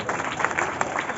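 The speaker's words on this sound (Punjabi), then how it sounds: "ਤਾਲੀ ਮਾਰੀਏ ਜ਼ੋਰ ਦੀ" Congregation clapping at a Christmas sermon, a brief burst of many hands with distinct rhythmic claps, moderately loud, with faint crowd murmur underneath.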